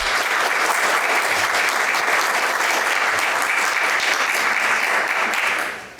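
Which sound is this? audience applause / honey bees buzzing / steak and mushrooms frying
audience applause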